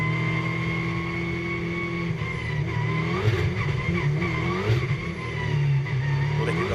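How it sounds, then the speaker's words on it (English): A GT2 race car in the Fanatec GT2 European Series is pushed along the track, its engine holding a steady, droning note with small throttle pulses and slight rises, heard fairly close and with no talk. "You can hear sort of urging the car forward, trying to get some warmth into the tyres,"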